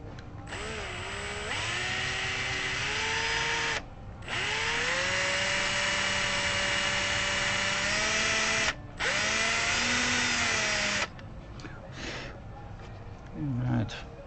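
A power drill boring into a guitar neck on a workbench whines in three long bursts, its pitch rising and sagging as the bit bites, with short pauses between and faint handling noise afterward.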